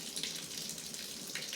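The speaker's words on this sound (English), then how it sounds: "I'm gonna run it under some cold water so I can at least touch it for a second" Cold tap water runs steadily over a hot, freshly boiled egg in a kitchen sink, a soft, continuous hiss and splash, fairly quiet with no voices.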